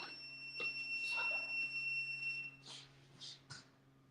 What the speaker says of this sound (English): Let me stop this buzzer on this door.